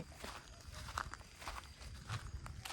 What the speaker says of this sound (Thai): เสียงย่ำไม้